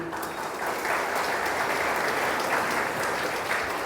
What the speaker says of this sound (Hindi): ताली बजाओ अच्छी तरह।